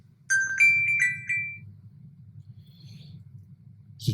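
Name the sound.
mobile phone ringing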